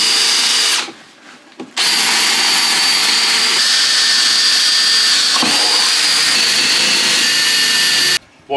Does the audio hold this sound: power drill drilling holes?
yes